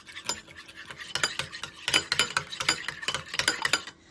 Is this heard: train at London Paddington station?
no